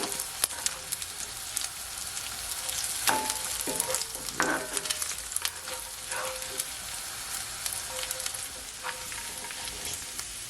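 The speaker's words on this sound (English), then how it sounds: "this is what my bacon look like. As you can see, it is nice and crispy and it makes lots of oil." Bacon frying crisp in its own rendered oil, a steady dense sizzle with scattered sharp pops and crackles, close and loud throughout with no talking.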